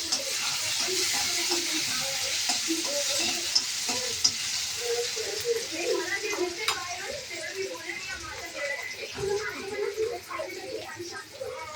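Chopped tomatoes sizzle in a hot frying pan with a steady crackling hiss and bursts of popping, while people talk nearby in the kitchen.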